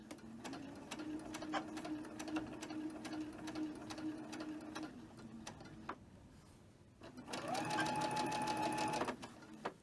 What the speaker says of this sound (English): try not to go over any of your pins when you sew